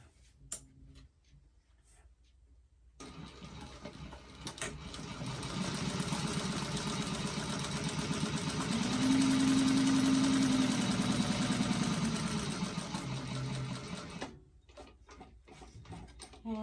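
Sewing machine basting two bag pieces together, a steady mechanical whir running for about eleven seconds and swelling slightly in the middle, with quiet handling sounds before and after.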